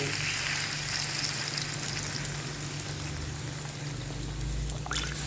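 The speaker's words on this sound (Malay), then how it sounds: "kita masukkan santan dia, sayur dia nanti belakang." Coconut milk being poured into a simmering pot of gulai kapau, a steady liquid pour over continuous bubbling and sizzling, close and even throughout, with no voices.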